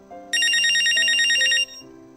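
A mobile phone ringtone plays loudly in a business meeting: a steady low melodic tone, then a bright, rapidly warbling ring over it for about a second and a half before it drops back to the soft tune.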